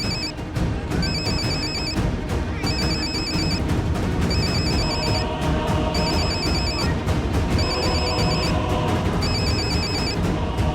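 A telephone rings in a steady repeating pattern of electronic bell bursts, loud and continuous over a busy dramatic music bed, with no talking.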